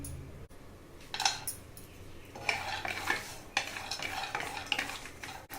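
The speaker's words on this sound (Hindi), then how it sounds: "पहले कुछ ड्राई फ्रूट रोस्ट कर लेते हैं।" Almonds and other dry fruits stirred and roasted in a pan, with repeated scraping and rattling strokes and a faint sizzle, close and moderately loud with short pauses between bursts.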